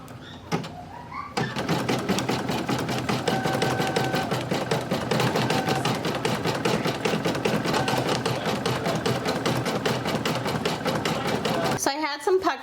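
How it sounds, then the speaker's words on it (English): An embroidery machine sews a tack down stitch on towel fabric, a rapid, even mechanical clatter that starts after a brief pause and runs steadily, with a voice talking over it. "it's going to do a tack down stitch for the fabric"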